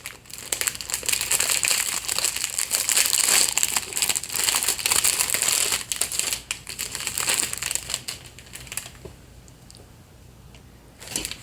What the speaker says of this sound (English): And there's a lot of paper in here.